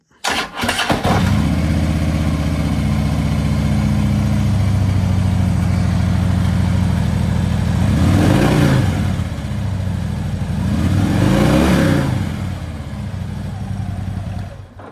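A stock 2010 Harley-Davidson Tri Glide trike with stock intake and exhaust cranks and starts, then settles into a deep, loud idle broken by two strong revs, with a person speaking briefly near the start.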